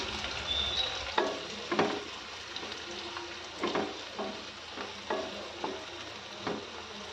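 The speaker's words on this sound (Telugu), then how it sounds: "ఒక పెద్ద ఉల్లిపాయను చిన్న చిన్న పీసెస్గా కట్ చేసుకొని ఆయిల్లోకి యాడ్ చేసుకొని బాగా చక్కగా వేయించుకోవాలి" Finely chopped onion fries in hot oil, giving a constant hissing sizzle. Regular scraping taps from a stirring spoon cut through it at close range.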